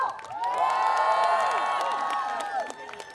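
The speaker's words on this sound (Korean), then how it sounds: "여러분 다시 한번 큰 박수 부탁드립니다." A festival crowd cheers and shouts at an outdoor concert at a Pyeongchang cultural festival, high voices whooping over scattered applause, loud and sustained for a few seconds before easing.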